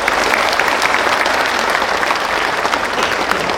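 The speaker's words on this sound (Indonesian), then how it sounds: "Tepuk tangan." A large crowd at a formal event claps loudly and steadily, a dense, even wall of applause from start to finish.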